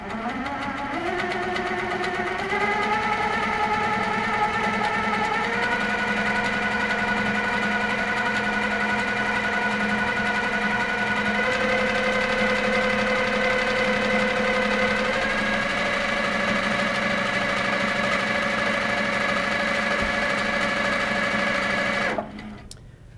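A sewing machine stitches a quilting spiral with a decorative steampunk-style stitch, a steady close whirring hum that shifts pitch in small steps as the speed changes, running continuously for over twenty seconds before stopping abruptly.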